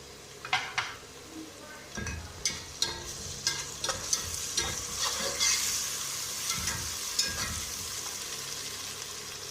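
Ginger and garlic sizzle steadily in a hot pan while a utensil stirs and scrapes, with a run of sharp clinks against the metal.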